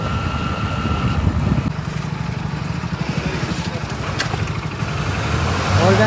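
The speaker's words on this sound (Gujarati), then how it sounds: "પવનનો અવાજ તમને બહુ સંભળાતો છે" Wind buffeting while riding a motorbike on a road trip, a rough continuous low roar with engine drone beneath, loud and steady throughout.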